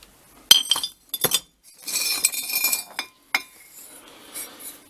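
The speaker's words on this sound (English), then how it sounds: "And a little green bottle." Old glass bottles dug from the ground clink and knock against each other as they are handled, sharp bright taps followed by a stretch of rubbing and rattling glass, close up with no speech.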